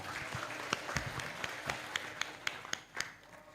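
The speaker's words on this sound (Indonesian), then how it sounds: "tepuk tangan untuk CS kita Mbak Karisa." Scattered claps from a small group at a book launch and Halal Bihalal gathering in Temanggung, Indonesia ring out in an uneven patter, fairly quiet and spaced apart, with no talking over them.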